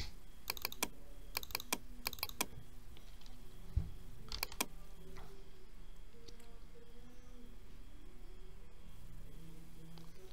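Sharp keystrokes on a computer keyboard come in quick bursts and isolated taps, fairly close but quiet over a faint room hiss.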